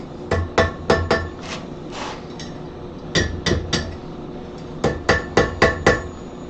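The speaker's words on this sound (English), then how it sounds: "come in and hit here with my peen" Hand hammer and peen striking sheet metal while shaping a Christmas bell, ringing in three quick bursts of sharp, bright metallic blows with short pauses between, close and loud with no talking.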